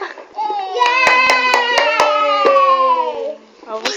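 Several sharp, close hand claps ring out in a loose rhythm while a voice cheers and chatters over them in a bright, excited tone.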